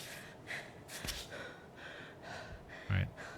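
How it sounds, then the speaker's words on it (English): A climbing character in the video game Cairn breathes heavily in tired gasps and panting exhalations, repeating every half second or so at close range, with one louder breath near the end. "So now I can hear her breathing"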